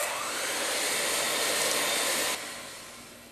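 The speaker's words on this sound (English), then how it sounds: "I'm going to mix that in with the shortening" An electric mixer mixes brown sugar into shortening, giving a steady, loud whirring drone that drops suddenly in level partway through and then fades lower.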